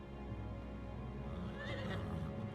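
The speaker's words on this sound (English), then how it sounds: "can I pet your horse, Odin?" A horse whinnies in the Final Fantasy XVI video game, a clear rising neigh over a low steady background hum, moderately loud and heard alone.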